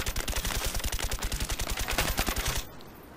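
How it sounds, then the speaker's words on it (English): Rapid automatic gunfire in Call of Duty Black Ops on the Havana map: a fast, even stream of loud shots for over two seconds, then it stops abruptly, leaving quiet background. "The bullets are flying past me."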